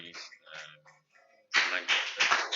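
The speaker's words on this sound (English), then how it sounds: "Can we clap?" Audience clapping at a student council candidate vetting session, a burst of many hands applauding together in the second half, loud and close, following a brief stretch of speech.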